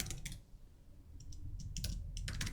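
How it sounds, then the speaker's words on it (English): Quiet, close-up clicking of keys on a computer keyboard arrives in irregular short bursts, sparse at first and then denser toward the end, with no speech. "I know I'm typing."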